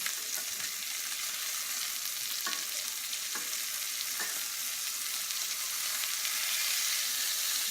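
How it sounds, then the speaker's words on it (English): Steady, loud sizzling of meatballs browning in a hot pan, with a few sharp pops and crackles over the continuous hiss. "I love the sound of meatballs. Like the sizzling sound when you brown meatballs."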